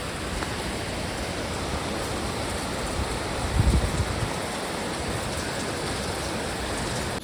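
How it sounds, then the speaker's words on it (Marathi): Heavy rain falling during a monsoon Ganesh Chaturthi visit in the Konkan, a steady broadband wash close by with a brief low rumble midway. "परत पाऊस चालू झालाय."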